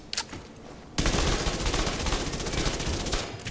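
SMG gunfire in The Division 2 comes in a loud, sustained rapid-fire burst of about two and a half seconds, after a brief pause with a few scattered shots.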